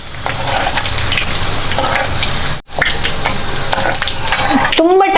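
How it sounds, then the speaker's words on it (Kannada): Parijata flower oil sizzles steadily as it heats in a pan, a loud continuous crackling hiss with a brief break midway, joined near the end by a short high whistling tone. "ಅದನ್ನು ಬಿಸಿ ಮಾಡುವ ಪ್ರಾಸೆಸ್ ಸ್ವಲ್ಪ ಟೈಮ್ ಹೋದಾಗೆ ಅದು ಟ್ರಾನ್ಸ್ಪರೆಂಟ್ ಆಗ್ತದೆ ಮತ್ತೆ ಈ ಸೌಂಡ್ ಎಲ್ಲ ನಿಲ್ತದೆ"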